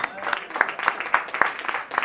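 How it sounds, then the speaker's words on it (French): Audience at a song-contest qualifying evening in Le Mans clapping for jury members, a sparse run of distinct hand claps, roughly one every quarter second, over a soft crowd hum. "Véro et Mathie, on peut les applaudir"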